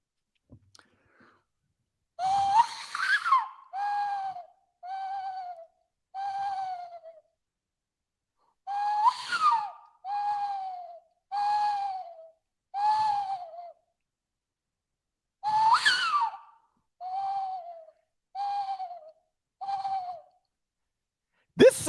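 A voice imitates owl hoots in three close, clear groups separated by silences, each a rising breathy call followed by a run of shorter, evenly spaced hoots.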